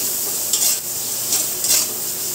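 Aromatics for fish adobo with bakoko fish and potatoes sizzle in a hot pan, with repeated stirring scrapes cutting through the steady frying hiss.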